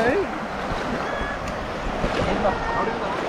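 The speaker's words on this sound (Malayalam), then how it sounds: "നല്ല ഒഴുക്കുണ്ട് കേട്ടോ, അടിയിലേക്ക് നല്ല ഒഴുക്കുണ്ട്" Fast-flowing stream water at Munnar rushes steadily in a broad continuous wash, loud and close throughout, with faint traces of other sounds over it.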